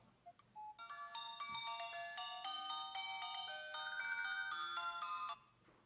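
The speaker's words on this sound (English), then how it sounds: "the watch will start ringing and vibrating" An Aplus GV18 smartwatch plays a bright, melodic ringtone after losing its Bluetooth link to the phone, starting after a few soft clicks and running clearly and steadily for about five seconds before cutting off.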